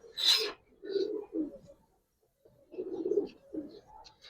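Giribaz pigeons, a pair at the nest, give several soft throaty coos in two bursts separated by a short pause, close by and alone.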